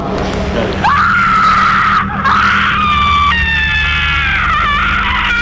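A voice imitates a woman's scream: a loud, sustained, high-pitched wail that breaks briefly, then resumes and wavers before trailing off.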